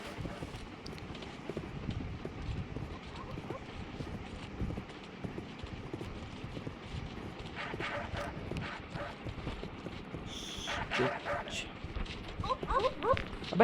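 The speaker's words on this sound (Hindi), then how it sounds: "अब आना भेड़िए कहीं के" Wolves in a video game bark and growl among rapid hoof-like clopping and other game noises, with a voice heard now and then; the mix is busy and continuous, getting louder toward the end.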